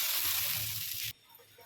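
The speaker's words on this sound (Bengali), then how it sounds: "পেঁয়াজ বাটাটা দিয়ে দিচ্ছি" Onion paste hits hot oil in a pan, producing a loud, close burst of hissing sizzle that stops abruptly after about a second, leaving a quieter background.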